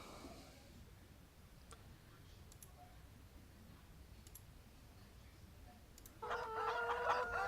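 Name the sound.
chickens clucking in video game Farming Simulator 17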